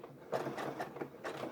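A Janome embroidery machine stitching a quilt in the hoop, rapid mechanical needle pulses in short bursts with a whirring drive, close and alone.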